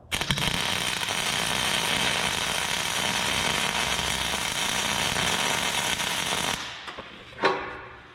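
A dozer blade skin is tack welded, producing a loud, continuous crackling buzz that runs for several seconds and then cuts off, followed by a short sharp clank.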